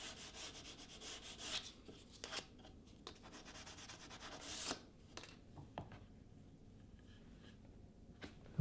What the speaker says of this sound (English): So when you do that first coat, you can just lightly sand it or abrade it,